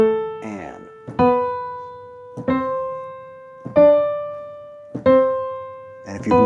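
A beginner piano warm-up in which the right hand plays legato and the left hand plays staccato. Five or six evenly spaced struck notes each ring and decay, heard up close and played slowly, with no talking.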